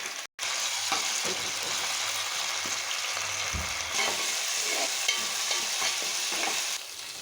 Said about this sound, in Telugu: ఇదిగోండి మనం వేసుకున్న మసాలా పేస్ట్ అనేది పచ్చి వాసన పోయేంత వరకు వేగించాము